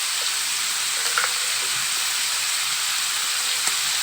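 Onions sizzling in a pan of cooking hearts, a steady close frying hiss with a few faint clinks, no talking.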